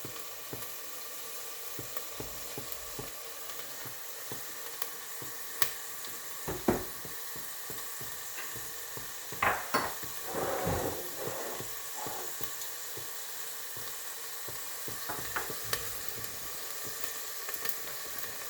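About 800 grams of small-cut mutton sizzles in a pan with masala, a steady soft frying hiss broken by scraping stir strokes and brief louder bursts, heard alone at moderate volume.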